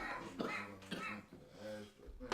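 A man coughs in short bursts during a casual podcast-style chat, harsh throat-clearing coughs mixed in with voices talking nearby.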